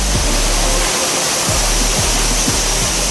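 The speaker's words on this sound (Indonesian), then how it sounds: "kami sudah sampai di air terjun nomor 3 guys" The Tepin Belaga waterfall roars as a loud, steady, broadband rush of falling water heard up close, with a few faint low thumps under the continuous noise.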